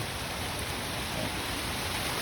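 Dense, constant rushing of a waterfall pouring into a pool below, close and loud, a steady hiss with no pauses, at Krathing Waterfall, Khao Khitchakut National Park, Chanthaburi, after fresh rain.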